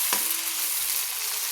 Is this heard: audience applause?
no